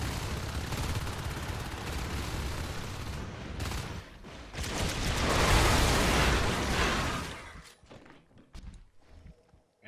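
Gunfire and combat noise in a Natural Selection 2 competitive match: dense rattling shots and thuds, then a louder sustained burst around the middle that cuts off into scattered quieter clicks and hits.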